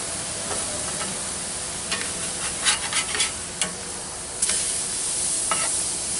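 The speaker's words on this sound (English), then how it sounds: "Sear it on the one side here." Blackened catfish searing in a hot pan, a steady close sizzle and hiss with a few brief crackling pops and stirring scrapes.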